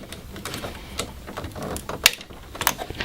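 Ink cartridges being pushed into the carrier of an Epson WF-7710 series printer, with two sharp clicks at about two seconds and again near the end over low handling noise.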